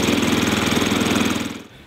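Small snowblower engine left running to warm up before an oil change, a close, steady pulsing putter like a lawn mower that drops away abruptly near the end as it shuts off.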